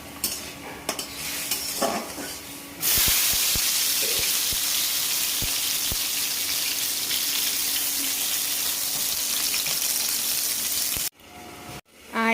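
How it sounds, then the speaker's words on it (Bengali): Cashews and raisins fry in a pan, a steady loud sizzle with scattered stirring and utensil clinks, ending with a few quieter knocks. "আর এবার কাজু কিশমিশগুলোকে একটু ফ্রাই করে নেব।"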